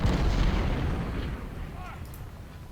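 Artillery cannon fire in the Civil War strategy game Ultimate General: Civil War during the Second Battle of Bull Run, a deep rumbling boom that fades over a few seconds, heard alone.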